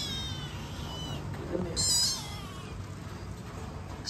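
A sad cat meows inside a newly built DIY catio with a hammock, heard at night as one short cry in the middle of steady low background noise. Someone speaks briefly nearby.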